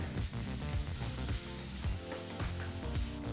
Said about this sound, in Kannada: ಈಗ ಈರುಳ್ಳಿ ಮತ್ತು ಹಸಿ ಬಟಾಣಿನ ಎರಡರಿಂದ ಮೂರು ನಿಮಿಷ ಮೀಡಿಯಂ ಫ್ಲೇಮ್ನಲ್ಲಿ ಫ್ರೈ ಮಾಡ್ಕೋಬೇಕಾಗತ್ತೆ